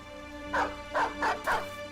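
A war dog in the video game Battle Brothers barks four times in a quick, evenly spaced run of sharp, close, loud yelps, with a low steady game hum running underneath.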